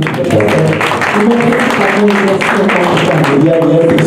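An audience applauds at a Congolese music event, a dense, steady wash of clapping that stays loud and close from start to finish.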